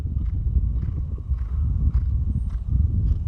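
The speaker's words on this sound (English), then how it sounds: "That's a good canter." Horse cantering in a riding arena, hoofbeats steady and rhythmic at close range over a low continuous rumble, with no talk.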